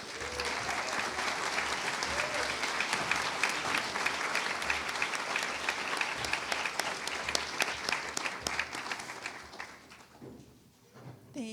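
A crowd at a high school commencement ceremony applauds in a long, loud, sustained burst of clapping with scattered sharp claps and faint voices, then tapers off near the end.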